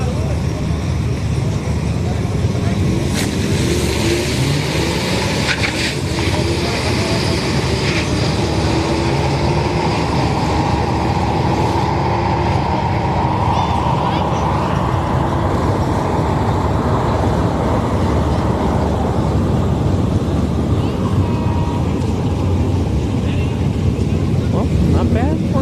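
A stock EcoBoost Mustang making a solo drag-racing pass in the left lane at a night street event at Orlando Speed World, heard as a steady loud engine roar mixed with crowd and track ambience, with voices chattering throughout.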